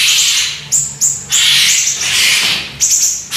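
A young white-rumped shama (murai batu) sings close by in loud, bright bursts, with repeated high whistled phrases and chirps separated by short gaps over faint background murmur.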